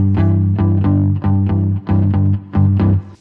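A blues shuffle on electric guitar, with heavy, accented low chord stabs in an uneven triplet swing, about a dozen short strums separated by brief choked gaps, loud and close with no voices.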